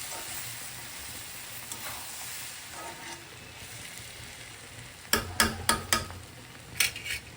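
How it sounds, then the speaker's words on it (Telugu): Cluster beans curry cooking in a pan gives a steady low sizzle, then a spoon scrapes and clacks against the pan in a quick run of stirring strokes near the end. "మూత తీసి కలుపుదాము కొంచెం ఫ్లేమ్ తగ్గించుకొని"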